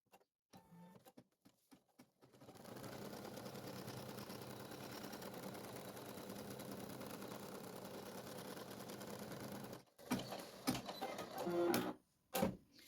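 An embroidery machine runs a first stitching pass through fabric and a plastic layer held in a 13x18 cm hoop, a steady mechanical hum lasting several seconds, then breaking into short bursts and clicks near the end.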